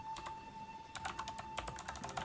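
Rapid typing on a computer keyboard during a programming session: close, clicky keystrokes in quick bursts, a brief lull near the start, then dense, steady tapping.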